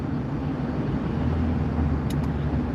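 A car cruising slowly at 45 mph on an interstate, heard from inside as a steady, loud low road and engine rumble that holds evenly throughout with no talk.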